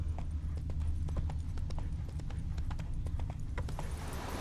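Steady clip-clop of hooves from Roach, the horse in The Witcher 3 video game, in the Beauclair region; continuous rhythmic hoofbeats over a low rumbling bed, close and fairly loud, with no talk.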